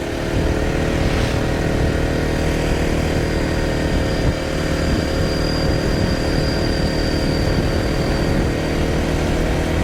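A Honda PCX160 scooter engine drones steadily while riding on a highway, with a constant loud hum and wind rush for about ten seconds and no speech.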